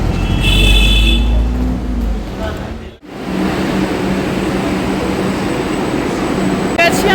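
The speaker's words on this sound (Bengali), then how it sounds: "মেট্রোতে এলাম মেট্রো ধরেই যাওয়ার ইচ্ছা আছে" A Kolkata metro train rumbles steadily and loudly, with a brief sharp dropout partway through and faint voices in the background.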